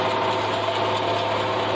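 A tractor engine runs steadily at close range during mowing work with the PTO engaged, giving a continuous mechanical drone with no breaks across the short stretch.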